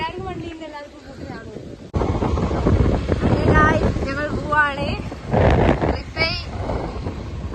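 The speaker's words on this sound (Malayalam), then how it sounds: "മഴപ്പം പെയ്യും, നല്ല കാറ്റുണ്ട്" Strong wind buffets the microphone in heavy, roaring gusts, with people talking briefly before and through it.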